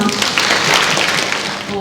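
Classmates applaud both teams at the close of a middle school reading debate final, a dense wash of clapping filling the whole stretch at steady strength, with faint voices mixed in.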